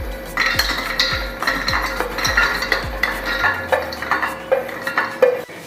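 Makhana (fox nuts) being transferred into a bowl in a home kitchen: a series of regular scraping, stirring strokes with clinks of a utensil against the dish, close and fairly loud, no talking.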